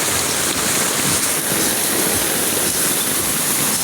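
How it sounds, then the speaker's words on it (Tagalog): Heavy rain pours down in Manila, Philippines, a steady, dense hiss of water filling the whole scene without pause, loud and close, with no voices. "Lakas ang ulan dito sa Araon."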